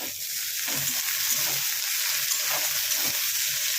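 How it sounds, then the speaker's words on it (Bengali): Onion fries in a pan for rajma, a dense continuous hiss of hot oil with soft stirring scrapes and low knocks, close and steady, no voices. "পেঁয়াজটাকে ভালো করে ভেজে নেবো"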